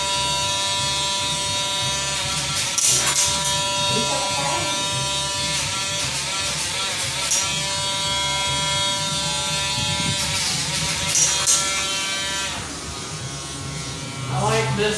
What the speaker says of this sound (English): I like this Dremel because it has different settings.